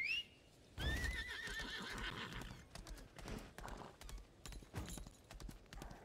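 A horse in the game Lost Ark gives a clear whinny, then hooves clip-clop in a steady rhythm, rising and falling in loudness while being ridden, faint overall.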